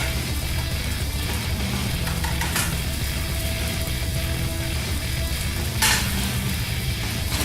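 Butter substitute sizzling in a non-stick pan for an omelette, a steady broadband frying hiss throughout, with faint utensil clicks and a couple of brief scraping bursts.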